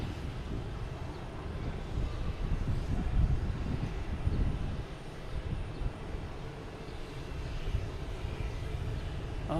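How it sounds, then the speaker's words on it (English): A JetBlue Embraer E190 jet at Boston Logan Airport gives off a continuous, fairly loud engine roar that swells a little toward the middle and then holds steady, with no talking. "We got a JetBlue and E190 heading to Pittsburgh."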